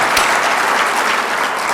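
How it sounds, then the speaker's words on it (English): A dense burst of audience clapping fills a State of the City address in Grand Forks, loud, close and continuous. "We never want to cut out the applause for the wife."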